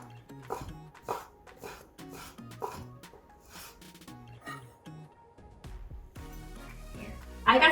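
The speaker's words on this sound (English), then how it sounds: "I'm just gonna cut the fish cake like noodles" A knife slicing fish cake into thin noodle-like strips on a cutting board, quiet, evenly spaced chops and rasping strokes, close by, followed by a louder clatter at the end.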